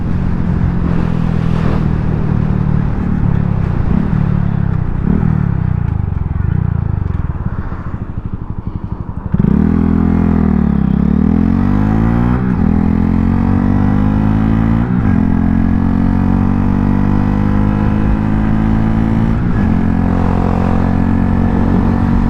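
A 2025 Honda Grom fitted with a Zoom Loop full exhaust is ridden uphill, its engine droning loud and close throughout, with revs falling and then climbing again after a gear change midway.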